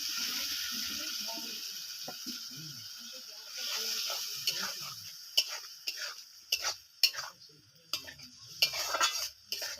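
Curd rohu fish masala is stirred in a pan, a soft sizzle underneath a run of scraping and clinking spatula strokes that grow sharper and more frequent toward the end.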